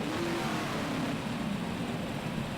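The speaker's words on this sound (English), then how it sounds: "I should probably turn the engine sounds on, or the sounds from the game on altogether" Race car engine noise from a racing video game set at the 1974 Pocono 500 plays as a steady, continuous drone with little change, at moderate level and with no talk.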